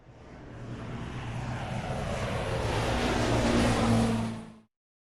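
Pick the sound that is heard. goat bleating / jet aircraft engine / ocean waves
jet aircraft engine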